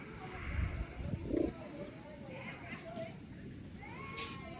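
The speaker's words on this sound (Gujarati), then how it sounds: "આવી ગયા કબૂતર" Faint pigeon cooing comes through a noisy outdoor background, soft and somewhat distant.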